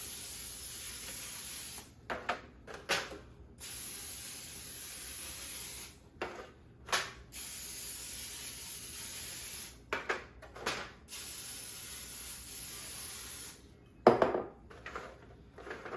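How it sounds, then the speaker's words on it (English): Short hissing bursts of cooking spray coated onto small baking pans in a kitchen, several separate sprays of a second or two each, close and fairly loud over a steady background hum, with no talking. "I'm gonna spray them a little bit."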